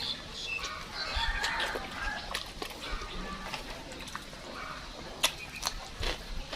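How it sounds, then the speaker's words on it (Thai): Domestic chickens cluck and a rooster crows at a distance, with scattered bird calls over a soft outdoor background of light summer storm wind. "ลมพายุฤดูร้อนอ่อน เสียงไก่ของบ้านกับเสียงนก"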